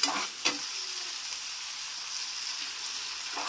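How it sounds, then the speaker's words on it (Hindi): Onions frying in a pan for chicken korma, a soft continuous sizzle with faint clinks of stirring near the start and end. "प्याज खूब भूनिए इसे"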